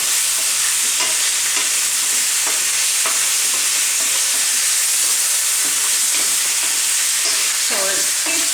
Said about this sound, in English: Continue tossing it, because what you don't want is for it to stick in the pan.